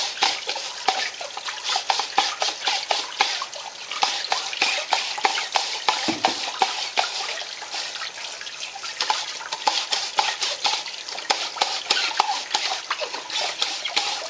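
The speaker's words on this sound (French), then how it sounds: "je vais pouvoir nettoyer sous l'eau le filtre" Kuvings EVO820 juicer filter being rinsed under a running tap, a steady broadband splash of water with busy scrubbing and clattering transients throughout, fairly close and continuous with no talking.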